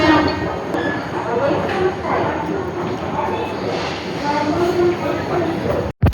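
A local commuter train rumbles steadily along the track, continuous and fairly loud throughout, with a brief dropout near the end.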